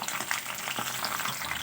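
Peas and mixed vegetables fry in hot oil for bhat bhaja, a dense and continuous close sizzle with faint scattered stirring scrapes.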